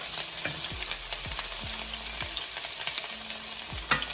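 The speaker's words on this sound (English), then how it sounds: "it's time to cook up our scallions first and garlic" Scallions and garlic fry in a pan with a constant bright sizzle while a spatula scrapes and taps at a steady pace, close up and with no talking.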